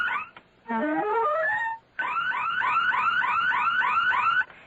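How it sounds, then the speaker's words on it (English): A burglar alarm in a radio drama wails in rising electronic sweeps, a brief pause, then rapid repeated whooping tones, loud and alone. "It's the burglar alarm."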